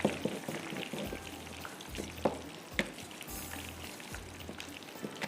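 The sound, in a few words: shrimp frying in a pan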